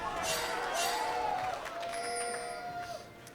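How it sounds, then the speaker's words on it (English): A large arena crowd at a League of Legends LCS esports match, Counter Logic Gaming versus Cloud9, cheers as a broad, sustained roar that slowly fades toward the end. "And the crowd cheering for CLG's great vision control"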